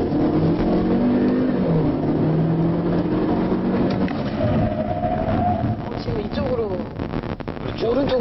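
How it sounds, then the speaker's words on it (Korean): Kia K5 sedan accelerating hard with a rising engine roar and wind noise, then braking as the pitch sweeps down, heard from inside the cabin while people talk over it. "급가속한 이제 브레이크를 하면"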